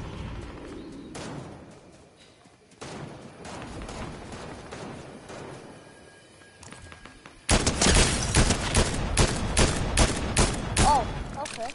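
Bursts of Fortnite gunfire crackle in a dense, loud volley through the latter part of the fight, following quieter stretches of in-game ambience and scattered shots, with faint voices talking over the match.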